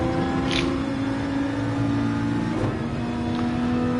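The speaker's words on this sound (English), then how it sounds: "revving to high heavens out of that Viper" A Viper GT1 race car engine in a Monza racing video game revs hard at high pitch, a steady, loud, continuous drone with slight pitch shifts and no talk over it.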